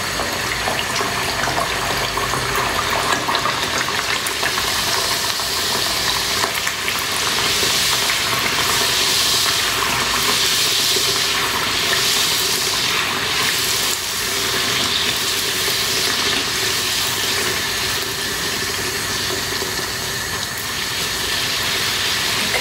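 Aloo puri frying in hot oil, a loud, continuous close-up sizzle with bubbling crackle that stays steady from start to finish, with no talk.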